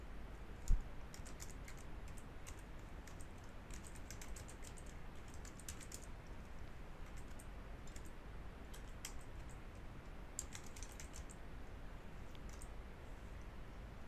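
Steady, continuous typing on a computer keyboard while entering inventory item details, with quiet, close keystrokes in irregular bursts over faint background hiss and no talking.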